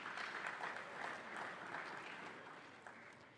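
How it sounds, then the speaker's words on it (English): An audience at a school quiz contest claps steadily and warmly for a few seconds, then the applause tapers off slightly. "Let's applaud them."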